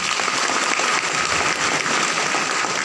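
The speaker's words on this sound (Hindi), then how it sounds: "एक बार जोरदार ताली।" A crowd at a business gathering breaks into loud, sustained applause for the guests, a dense steady wash of clapping with no break and no voices over it.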